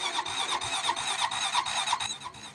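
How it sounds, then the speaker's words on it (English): A four-wheeler engine cranks over in cold 5-degree weather with a rapid, rhythmic whirring starter sound that repeats without catching, close and fairly loud. "Cross your fingers, the four-wheeler starts here."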